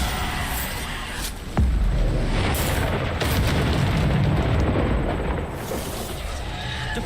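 A Bombarda spell explosion in the video game Hogwarts Legacy: one sudden heavy boom that erupts into a sustained roaring rumble, loud and close amid continuous game noise.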